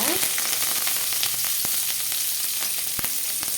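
Cumin, green chilies and curry leaves sauté in hot oil for ven pongal, giving a brisk, close sizzle with a few sharp pops and crackles over a few seconds.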